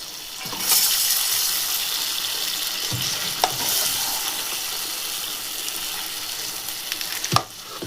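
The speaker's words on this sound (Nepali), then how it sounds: "साथीहरू यसलाई फेरि मिक्स गर्छौं सबै एउटैमा। नुन, खुर्सानी, मसाला, तेल सबै चीज मिक्स गर्छौं" Paneer is stirred with salt, chili, spices and oil in a hot pan, giving a faint steady sizzle with occasional scraping and clinks from the spoon against the pan.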